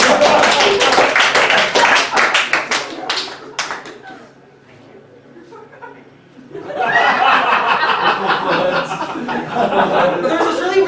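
An audience claps and laughs, a burst of applause fading to a quieter lull before clapping and chuckles swell up again, with voices mixed in.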